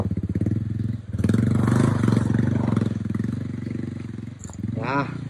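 A Royal Enfield Himalayan motorcycle engine thumps steadily close by, throttle rising and easing as it pulls out of a stuck spot. A voice speaks over the engine near the end.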